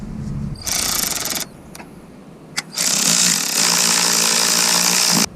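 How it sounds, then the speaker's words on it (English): An impact or power tool on a BMW E46 M3 runs the flywheel bolts down in loud, close bursts of harsh hammering whine, with a short pause and a sharp tap between them, then one long sustained run. "So I'm just going to install these bolts and start to run it down a little bit all around."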